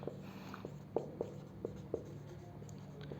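Chalk or marker taps and strokes on a classroom board come as a handful of faint, short knocks spaced about every quarter second, over a low steady background hum.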